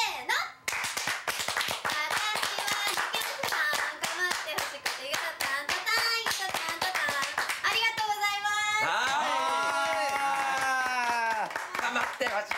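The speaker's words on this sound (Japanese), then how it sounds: "よかったら手拍子お願いします。" An audience claps along in a steady rhythm for a solo idol's self-introduction at a small live event, sharp claps close and continuous, while a voice sings and speaks over them.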